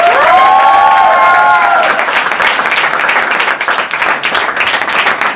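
Audience at a training seminar claps loudly, with a voice cheering or whooping at the start over dense crowd applause that gradually thins into scattered claps toward the end.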